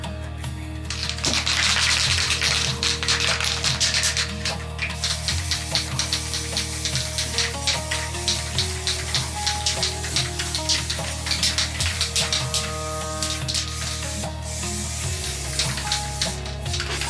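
A fourth coat of spray paint goes onto stripped SLR rifle parts in a long run of quick, rhythmic hissing bursts over a steady mechanical hum, close and fairly loud.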